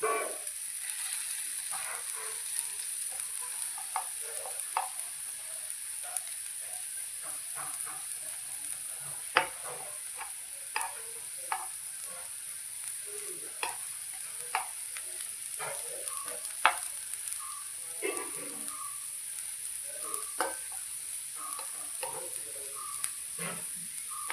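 Slices of elephant foot yam fry in a pan in steady, close sizzling, with scattered clicks and scrapes as the pieces are turned one by one.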